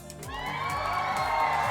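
A party crowd lets out a rousing cheer, many voices whooping and shouting together, loud and close, swelling steadily and holding to the end.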